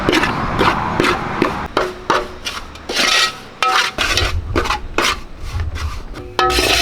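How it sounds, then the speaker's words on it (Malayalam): A utensil stirs and scrapes chillies sautéing in raw coconut oil in a pan, cooking for a Kerala toddy-shop fish head curry. Close, rhythmic scraping strokes repeat steadily with brief pauses between them. "നമുക്ക് നല്ലപോലെ ഒന്ന് വഴറ്റിയെടുക്കാം"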